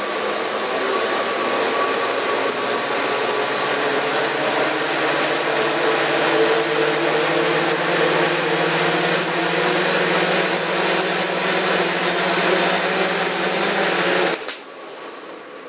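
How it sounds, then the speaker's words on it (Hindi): Motors of a homemade quadcopter drone spin on a throttle test, a loud, steady high-pitched whine with a droning hum that holds for about fourteen seconds before abruptly cutting off. "इसको थ्रॉटल को थोड़ा सा हम लोग देखते हैं ये क्या सही में फ्लाई करने के लिए रेडी है"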